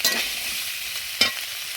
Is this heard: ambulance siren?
no